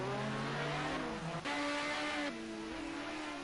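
A race car in a touring car race at the Nordschleife slides into turn 1, its engine droning and shifting pitch through gear changes and revs, loud and continuous.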